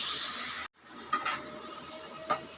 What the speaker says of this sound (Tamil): இப்போ இதெல்லாம் நல்லா ஃப்ரை ஆகட்டங்க